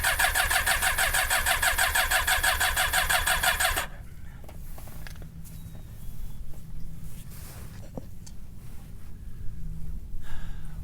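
A car engine cranking on a lithium-ion jump starter battery in 12-degree cold weather, a loud rhythmic starter churn for about four seconds that stops abruptly, followed by quieter rustling and handling sounds.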